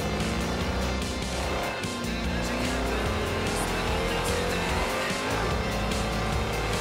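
A Lamborghini in Forza Horizon 3 drifts with a loud sustained engine roar and long squealing tire slides, a continuous dense blend of revving and skidding with no break.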